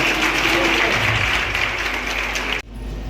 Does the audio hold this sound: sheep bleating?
no